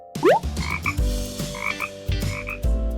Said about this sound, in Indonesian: Kodok.